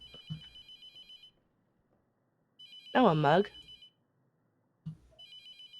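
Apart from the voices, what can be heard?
telephone ringing in the video game Mortuary Assistant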